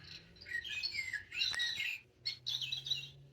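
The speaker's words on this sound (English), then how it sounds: "The bird is doing tweet tweet." Recorded bird chirping from a children's sound book, a few bursts of bright tweeting calls with short pauses between them, played fairly close by.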